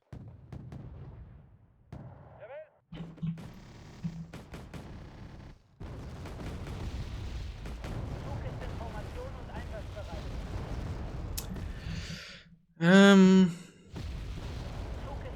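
Mortar fire in the video game Wargame: Red Dragon, heard as scattered distant booms and rumbling impacts over a steady battle din, with someone talking at times throughout.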